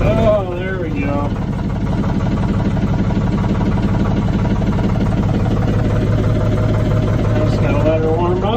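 An LS engine idles steadily while warming up, a continuous low rumble with a mid-pitched mechanical drone, loud and close throughout.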